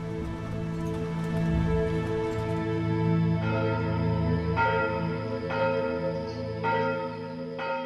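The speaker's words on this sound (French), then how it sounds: "C'est la première fois que les cloches résonnent à la Trinité." Bells of the new church at La Trinité ring out over a village, sounding sustained, resonant tones with fresh strikes coming roughly once a second, under a steady hiss like rain.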